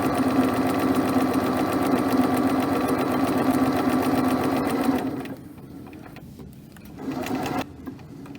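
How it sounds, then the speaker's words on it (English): A sewing machine stitching an apron strap runs loud and close with a rapid steady mechanical hum for about five seconds, stops, then gives a short second burst before quieting again. "Okay, now that I'm up to the edge, I'm going to just sew straight down."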